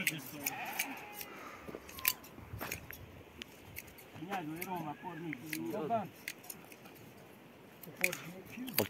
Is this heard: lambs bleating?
yes